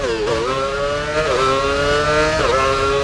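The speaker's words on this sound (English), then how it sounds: "Across the hanger straight, flooring it at the quickest part of the circuit, 310 kilometers an hour" Formula 1 car engine screaming at full throttle along the fastest straight of a circuit at about 310 km/h in the F1 Championship Edition video game, a loud steady high-pitched whine with brief pitch dips at gear shifts.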